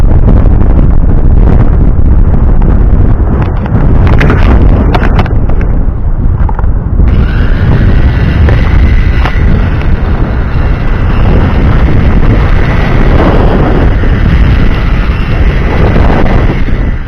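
Hubsan H501S quadcopter drone motors starting up, a loud steady high whine rising in after a few seconds of rough wind-like noise and continuing evenly to the end.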